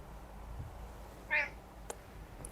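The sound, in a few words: cat meowing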